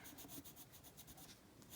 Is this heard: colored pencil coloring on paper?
yes